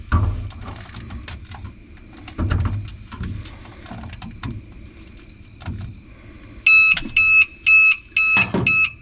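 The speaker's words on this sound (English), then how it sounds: "We got an alarm. We got propane out of that torch." A propane gas detector alarm goes off after propane is released from a torch lighter inside a skoolie bus, sounding as a series of loud, sharp repeated electronic beeps near the end, following quieter handling noises.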